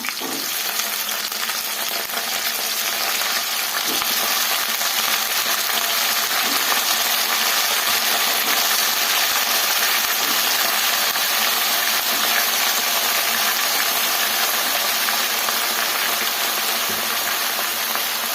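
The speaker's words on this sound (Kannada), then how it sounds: "ಎಲ್ಲ ಈ ಥರ ಫ್ರೈ ಮಾಡ್ಕೊಳ್ಳೋಣ ನೋಡಿ ಈ ಥರ ಫ್ರೈ ಮಾಡ್ಕೊಬೇಕು" Small cut eggplant pieces frying in hot oil in a pan, a loud, steady, dense sizzle that runs unbroken throughout, alone with no voices.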